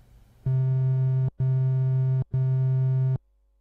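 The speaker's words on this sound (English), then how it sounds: "if we listen to the triangle wave, there are only a few odd harmonics in there, so it sounds like this." Triangle wave oscillator from the Sylenth1 synthesizer playing three sustained identical notes, each close to a second long with short gaps. The tone is pure and mellow with few upper overtones, clean and steady, and nothing else is heard.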